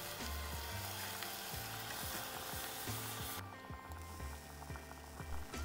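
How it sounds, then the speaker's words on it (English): Meat and kimchi stir-fry in sesame oil with a constant bright sizzle, while a utensil scrapes and pushes the food around the pan in repeated low strokes. "I stir fry them until the meat is cooked."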